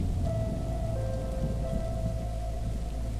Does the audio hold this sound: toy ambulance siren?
no